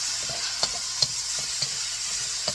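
Chopped tomatoes sautéed into an onion garlic masala for egg masala, a steady hiss of frying broken by several sharp spoon stirs against the pan.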